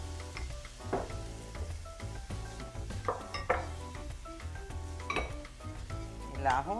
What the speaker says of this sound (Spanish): esperamos que se sofría un poco, que se cristalicen para proseguir a tirarle el arroz